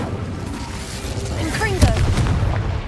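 The Incendio fire spell is cast in the video game Hogwarts Legacy: a short fiery burst flares up near the middle, over a rumbling low background of in-game combat.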